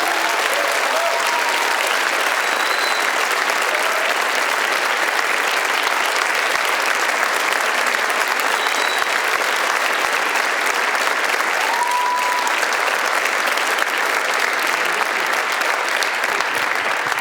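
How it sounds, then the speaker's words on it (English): Sustained, steady applause from a large audience at a live interview event with journalist Clarissa Ward, dense and even throughout with no talk over it. "If you're not done applauding"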